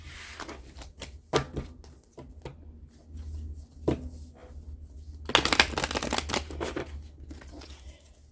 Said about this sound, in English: Just let me get these cards together and we're going to put all of the cards back